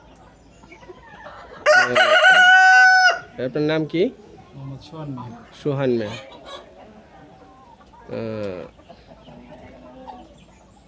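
A rooster crows loudly once, followed by chickens clucking nearby on a poultry farm, with people talking in between.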